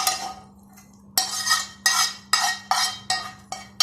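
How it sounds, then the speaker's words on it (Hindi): Chana dal being stirred in a metal pot after tempering with ghee and onions, giving a run of six or seven sharp spoon-against-pot scrapes and clinks in a steady rhythm, close and fairly loud, with no voices. "अब मैंने इसको घी से बघार दिया, बस घी और प्याज से"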